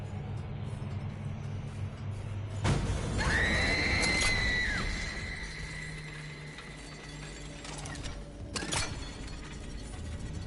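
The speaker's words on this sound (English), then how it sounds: "That was a scream from something that I don't identify with." A creature in the video game Dead Space lets out a shrill, drawn-out screech that rises and bends over about two seconds, framed by sharp metallic clanks in an eerie, humming space.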